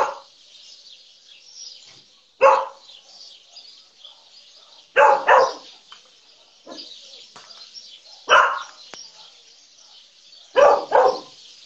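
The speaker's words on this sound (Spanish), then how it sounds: "El perrito ahí atrás." A dog barks in short bursts, a few separated barks a couple of seconds apart, somewhat distant, with faint bird chirps and background hiss between them.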